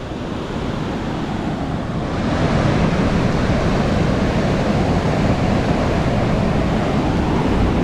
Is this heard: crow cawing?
no